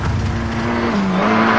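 Skoda works rally car driven on a public road, heard from inside as a loud, continuous engine roar with a slight dip in pitch midway, apparently a gear change.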